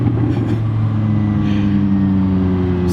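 A McLaren supercar's engine burbles loudly and close by on a downshift, a deep, steady rumble with a rough, crackling edge running for the full three seconds.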